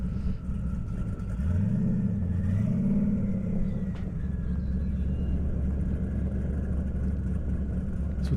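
A Camaro and a Corvette race side by side down an airstrip, their engines giving a deep, rising roar over a steady low rumble. The cars are loud but heard from a moderate distance.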